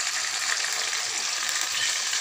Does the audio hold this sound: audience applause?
no